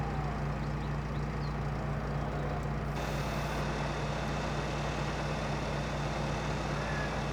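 Steady engine drone of a New Holland T6 tractor with a trailer parked in Farming Simulator, a constant low hum holding evenly throughout with no talk.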